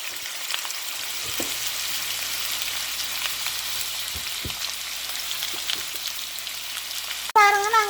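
Chopped pumpkin fries in a pan with a steady, even sizzle that runs throughout, broken by a few soft stirring scrapes and a sharp clatter near the end.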